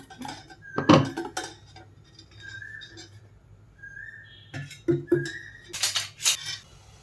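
Metal pots and a pressure cooker clatter and clink on a kitchen stovetop while tomato biryani is being made, with sharp scattered knocks and scrapes coming close, in brief bursts separated by short quiet gaps.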